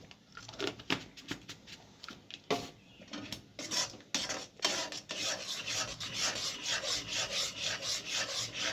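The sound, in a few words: stirring mango papad mixture with chilli powder in a pan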